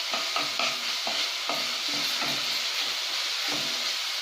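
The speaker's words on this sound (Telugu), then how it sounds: "ఇప్పుడు పచ్చివాసన పోయే వరకు అల్లం వెల్లుల్లి పేస్ట్ వేయిద్దాము." Ginger garlic paste sizzles and fries in a pan while being stirred, as the base for veg Manchurian. A steady hiss runs throughout, with repeated scraping strokes of the spoon and no talking.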